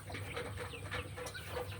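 Native chickens cluck softly nearby, a quiet scatter of short, repeated clucks and murmurs with a faint low background hum.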